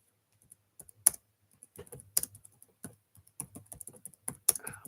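Keys clatter on a computer keyboard in irregular bursts of light clicks, with a few sharper strikes, close and quiet with no talk.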